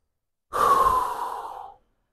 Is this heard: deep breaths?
yes